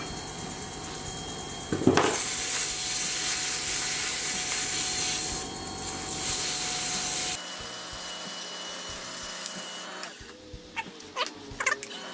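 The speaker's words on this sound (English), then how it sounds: "Let's get it sanded." A turned mahogany honey dipper sanded with 220-grit sandpaper on a lathe, a loud steady hissing rub for several seconds that cuts out partway through, followed by quieter shop noises and clicks near the end.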